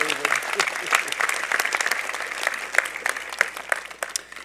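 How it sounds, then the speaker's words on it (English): A crowd at a university convocation ceremony claps steadily for several seconds, dense applause that thins slightly toward the end. "Could I have a round of applause for what he's done for convocation?"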